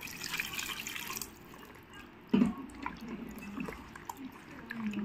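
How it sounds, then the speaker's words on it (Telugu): Water is poured into fish curry paste for a bangaru teega fish pulusu and stirred in, giving a short splash and liquid sloshing with light drips and scraping in a quiet kitchen, close and moderately loud. "ఇప్పుడు ముక్క ఉడకడం కోసం కొంచెం వాటర్ వేసుకుని కలుపుకోవాలి"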